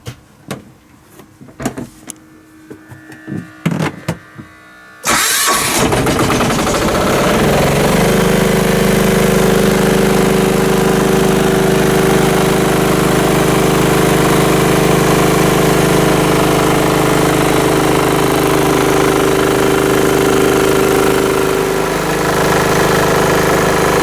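Generator cranks and catches after a repair, then settles into a loud, steady running drone that carries on without a break, heard alone with no talk over it.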